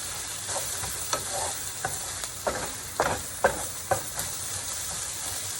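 Cut-up pork belly pieces fry in bacon grease in a pan for kimchi fried rice, giving a steady close sizzle broken by a series of scraping stirs and spatula knocks, with no talking.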